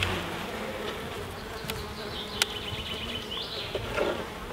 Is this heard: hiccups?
no